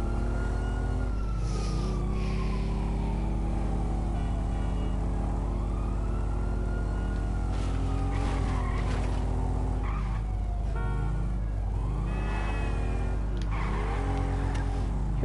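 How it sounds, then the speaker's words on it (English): A vehicle in GTA 5 doing a wheelie: a constant engine drone with rising and falling revving and whining tones throughout, loud and sustained, with tire squeal sweeping in and out near the end. "Doing a wheelie, guys"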